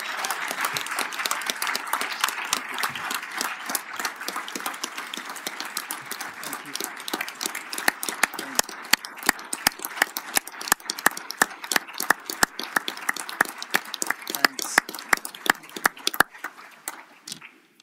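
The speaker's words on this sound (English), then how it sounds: "we will break tradition and ask for an applause at this point" Applause at a Nevada County Board of Supervisors meeting for a retiring staff member, steady clapping from a modest room crowd that thins into scattered, distinct claps near the end.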